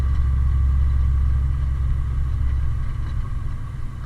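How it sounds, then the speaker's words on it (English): A truck engine runs with a steady low rumble while the driver shifts gears on the road, a constant close drone that eases slightly toward the end. "I try to listen to my truck, and it'll pretty much tell me when it's time to shift."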